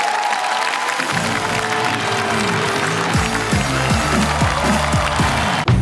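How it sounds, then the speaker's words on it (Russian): Comedy club audience applauding, dense steady clapping with some cheering and a voice or music tones underneath, running throughout and loud. "Эти аплодисменты вам."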